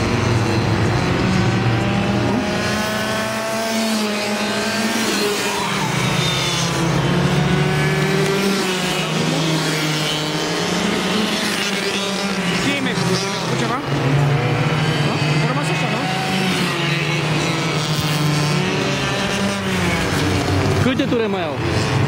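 80cc racing engines buzz and wail continuously during a race in Iasi, loud and close, with pitch rising and falling as the machines accelerate and pass, while people talk over the engine noise.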